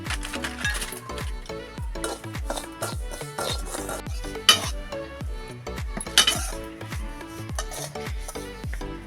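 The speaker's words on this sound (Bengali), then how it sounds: "খালি কড়াতে সুজিটাকে আমি ভেজে নেব হালকা করে" Semolina dry-roasting in an empty pan with no oil or ghee, heard as rapid, repeated scraping and rasping strokes of a utensil against the metal, close and rhythmic throughout.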